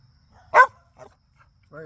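A nearby dog gives a single loud bark, then a small yap a moment later. Someone begins speaking just afterward.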